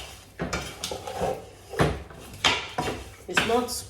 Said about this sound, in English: I'm mixing them together.